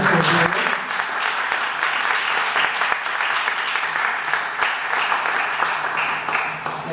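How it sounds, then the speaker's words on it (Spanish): Sustained, dense applause from an audience at a history talk in Querétaro, steady and fairly loud throughout with no break. "Tiene un aplauso muy fuerte para nuestra ponente."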